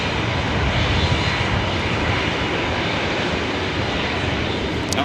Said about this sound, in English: This is Delta Airline flight 2533 heading to SFO on this 23-year-old